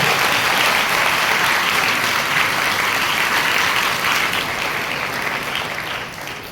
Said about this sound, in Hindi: ताली बजाना जोरदार